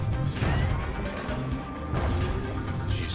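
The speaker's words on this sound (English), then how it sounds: "They aim to smash Weepin' Nellie to splinters" In the video game Bastion, the boat Weepin' Nellie smashes apart, a series of loud crashing and splintering impacts with heavy thuds that rise and fall over a few seconds, no voices on top.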